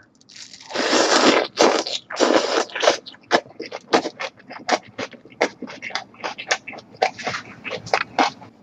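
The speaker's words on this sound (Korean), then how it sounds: "저도 한입 한번 먹어보겠습니다" Close-up eating of a wrap of seasoned squid with water parsley, radish and onion: loud crunchy bites at first, then a long run of rhythmic crisp chewing crunches, alone with no talking.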